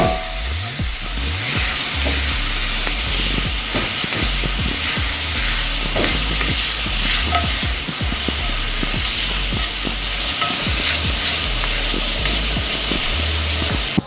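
Onions and garlic sautéing in a hot pan, a loud continuous sizzle with scattered crackles and the clatter of stirring throughout, no talking.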